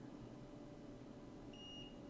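A continuity tester gives a single short, high beep while probing the circuit board of a fire-damaged iPad mini, sounding clearly but briefly near the end above a steady low electrical hum.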